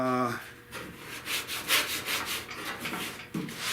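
Hand sanding with 150-grit sandpaper on a 1970 Buick Wildcat fender during restoration, steady close rubbing strokes in a back-and-forth rhythm.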